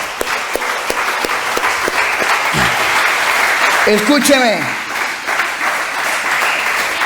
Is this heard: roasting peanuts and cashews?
no